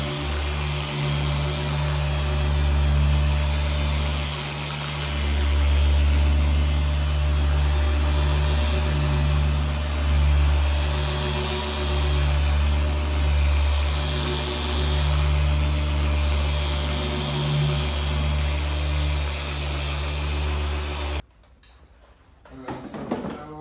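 A car paint polisher with a buffing pad runs at low speed setting 2 during a DIY paint correction, giving a steady loud motor drone with slight load fluctuations for about twenty seconds before cutting off abruptly, followed by faint handling noise.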